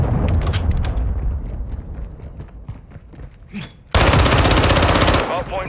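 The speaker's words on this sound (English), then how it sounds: "Hostile cruise missile launched." Rapid automatic gunfire and heavy explosive blasts crack through a multiplayer shooter's Hardpoint match as a hostile cruise missile strikes, ending in a loud sustained roaring blast, with a voice announcing over the din.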